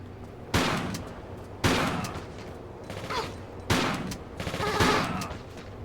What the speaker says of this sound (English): So we're going to be using our shotgun.